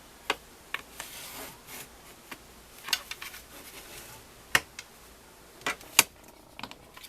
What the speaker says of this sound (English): we'll fold that down and burnish it real good